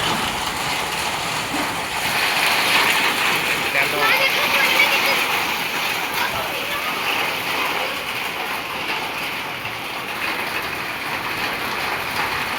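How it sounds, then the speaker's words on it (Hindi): Heavy hail falls in a dense, steady hiss and patter throughout, loud and unbroken like a downpour. "भाई ओले कितने भयंकर गिर रहे हैं"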